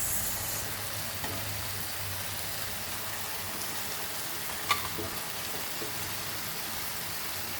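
Cauliflower leaves and other vegetables for a Goan bhaji hit a hot pan and fry with a steady, even sizzle that stays level throughout, with one sharp clink partway through.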